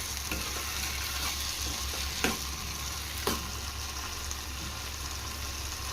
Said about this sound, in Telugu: మీడియం ఫ్లేమ్ మీదే ఈ విధంగా ఫ్రై చేసుకుంటూ ఉండాలా